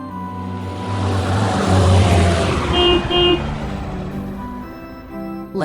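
A bus passing on the road, its engine rumble swelling to a loud peak and fading, with a short horn toot near the middle.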